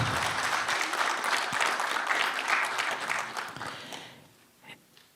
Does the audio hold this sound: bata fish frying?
no